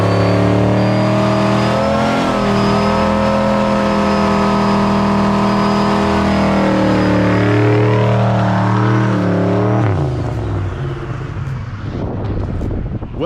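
Turbocharged 800-horsepower Foxbody car engine running loud and close, a sustained throaty drone with rising and falling revs, wind buffeting, then a sharp drop in pitch near the end.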